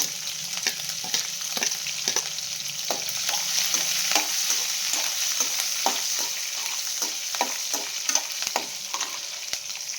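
Green chillies fry in hot oil with mustard seeds, cumin and urad dal, giving a steady close sizzle broken by frequent light scraping taps of a spoon stirring the pan.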